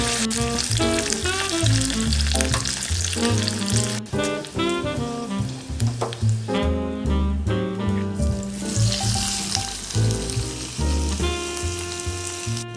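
A hot Indian tadka of dry red chilies and curry leaves frying in oil for curd rice gives a steady, loud sizzle that runs throughout, mixed with prominent background music.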